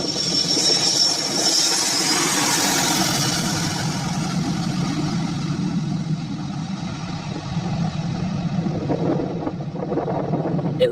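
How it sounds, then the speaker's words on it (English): A Boeing 727 climbing out after takeoff with its landing gear being retracted, a loud, sustained jet engine roar with a whining tone early on that gradually eases. "This Boeing 727 pilot couldn't wait to retract the landing gear."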